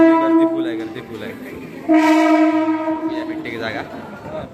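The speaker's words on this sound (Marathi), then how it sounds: "डहाणू ट्रेन आली" A local train at crowded Dadar station sounds a long horn in two loud blasts with a short gap between them, and station crowd noise runs underneath.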